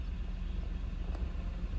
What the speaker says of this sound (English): So now it's running fine. It's just idling a little high.